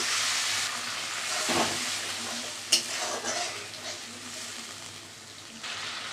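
Vegetable gravy boils and sizzles steadily in a pot in a home kitchen, a continuous bubbling hiss with a few brief clinks and stirring scrapes, close by and with no talk.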